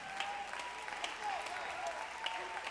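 Church congregation clapping during a sermon, a steady patter of many hands with a few sharper claps standing out, close and continuous, with faint vocal sounds mixed in.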